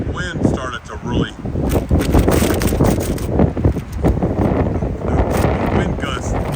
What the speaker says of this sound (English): now the wind is picking up again.